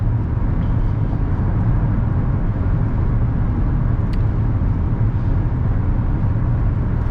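Trucks pass on the road during night driving, heard from inside a moving car as a constant low rumble of engine and tire noise that stays even and fairly loud throughout.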